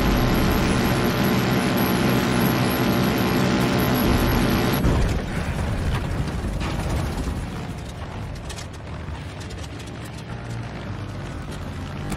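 Plane engine in the Far Cry 5 video game, a loud continuous droning roar that abruptly shifts partway through into a rougher, rattling, uneven grind as it seems to fail.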